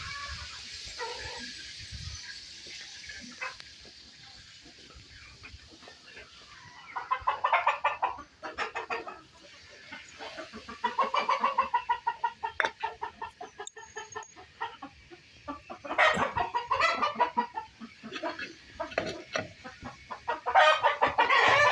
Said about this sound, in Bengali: এই যে এটাই হচ্ছে আমার ফার্মিং মুরগির শেড